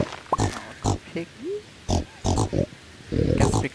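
Pigs in a farming video game give a run of short, close grunts and oinks in quick bursts, with a brief chime and a few soft tones between them.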